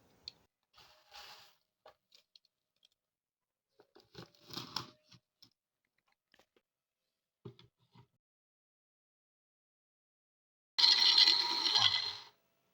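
An electric grinder blends dried carrot skin into powder, a loud buzzing whir lasting barely a second and a half after a stretch of faint rustles and light clicks.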